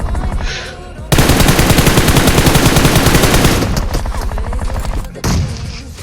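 Loud bursts of automatic gunfire crackle through a two-versus-three fight in the mobile battle royale game BGMI, one long rapid string of shots followed by shorter bursts after brief pauses.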